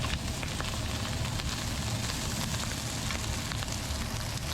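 Butter sizzling in a hot pan while mushroom fried rice with leftover rice is cooked, a steady, even crackle and hiss that holds throughout without pause.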